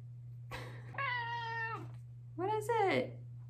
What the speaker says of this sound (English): It's been a busy day with these cats.